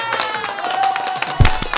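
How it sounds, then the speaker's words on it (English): Clapping at a basic military training graduation, a brief scattered patter of hands with a faint tone and crowd murmur underneath, ending in a louder thump. "People clapping."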